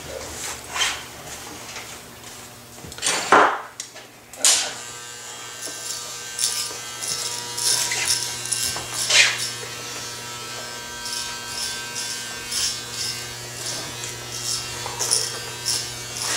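Electric hair clippers buzz steadily and close throughout a buzz cut with 4 and 3 guards, a continuous motor hum with brief louder passes and a short bark-like burst near the start, no talking.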